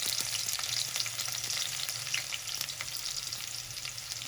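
Garlic fries in warm oil in a home kitchen with a continuous, even sizzle close up and faint crackles scattered through it, and no talking.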